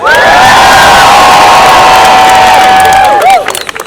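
A large crowd at a university commencement ceremony cheers and whoops continuously, with loud shouts and high-pitched cries rising over a dense roar that fades slightly at the end.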